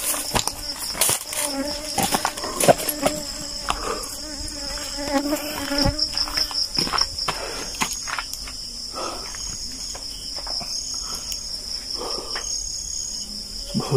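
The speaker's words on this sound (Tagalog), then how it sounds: "Ang dami bubuyog." Many bees swarm at night, a dense, steady buzzing drone that fills the whole stretch, close and loud, with scattered rustles and thumps from someone moving nearby.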